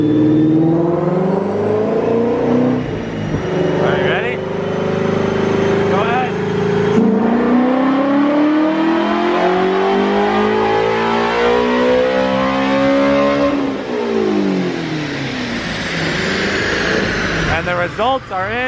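A Ford GT350 revs hard through a full dyno pull on the rollers, its loud engine note sweeping up through the gears with rising pitch and brief shift dips, while people talk over the roar.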